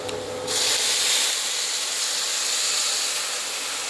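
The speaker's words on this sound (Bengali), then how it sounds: "তো এখন আমি এখানে দিয়ে দিচ্ছি জল" Water poured into a pan of hot oil with panch phoron spices and dried chilies bursts into loud, steady sizzling hiss that rises sharply at the start and holds close and continuous, with no talk.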